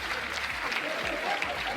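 Brief burst of audience applause at a live card-magic show, fairly quiet clapping from a crowd under a little mixed background sound.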